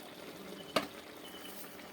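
Rice for chicken biryani tipped into a pot of boiling water: one brief, soft splash rises over a steady, quiet bubbling, with no talk.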